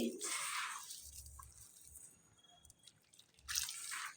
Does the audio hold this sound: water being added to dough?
yes